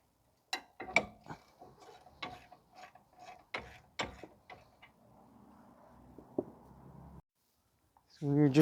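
A ratchet loosening the front brake bolts on a vehicle, a series of sharp clicking strokes in an irregular rhythm, close and fairly quiet, with a louder clunk near the end.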